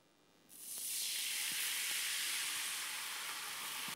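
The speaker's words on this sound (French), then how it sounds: "Je dégraisse le fond de la poêle. Je déglace à la bière." Dark beer poured into a hot frying pan to deglaze it after duck breast, pear and smoked bacon skewers were cooked, giving a sudden loud, steady steam hiss that holds for several seconds with faint crackles.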